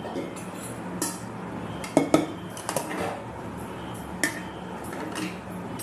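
Egg biryani is mixed in a cooking pot, with scattered metallic clinks and scrapes of a utensil against the pot that are fairly faint and irregular, over a quiet background.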